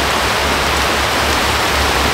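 Heavy rain pours down steadily outdoors, a dense, even hiss with no pauses or voices.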